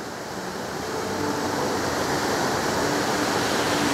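Creek water rushes in a steady, broadband wash, close and continuous, with no voices, as someone wades along LeConte Creek.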